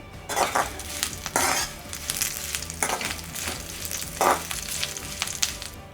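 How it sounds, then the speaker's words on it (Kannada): Curry leaves fry until crisp in a pan, a constant close sizzle broken by several bursts of stirring and metal spoon scraping against the pan, no talk. "ನೋಡಿ ಈ ಥರ ಕರಿಬೇವು ಗರಿ ಗರಿ ಆಗಬೇಕು"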